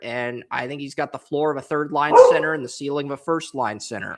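A black Labrador barks once or twice in a short burst, mostly buried under steady conversation from someone talking nearby.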